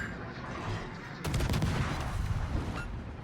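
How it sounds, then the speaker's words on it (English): Enemy ship guns fire in a World of Warships naval battle: a dense, loud burst of rumbling cannon fire breaks in partway through over steady engine and sea ambience, rolling on for about two seconds before easing back. "He's even shooting at us."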